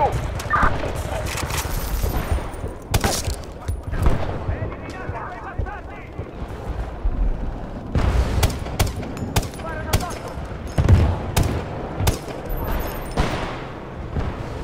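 Gunfire and bursts of automatic fire in the video game Battlefield: Bad Company, a Rush attack at Port of Valdez, with repeated sharp shots scattered through the clip under ongoing talk from players.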